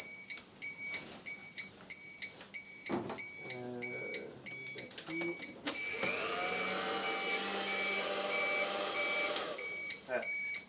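Repeated electronic beeps from a device powered by an assembled 18650 battery pack sound in a steady rhythm, roughly once per second, with a brief mechanical clatter in the middle.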